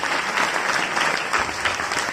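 A crowd claps steadily, dense, even applause filling the room without a break.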